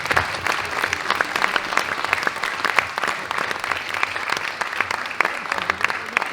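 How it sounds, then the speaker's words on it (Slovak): Audience applause at a culture week event, steady dense clapping from a large crowd that holds at an even level throughout, with no talk over it. "Veľký potlesk teraz chcem, aby ste dali pani Janke Madžicovej"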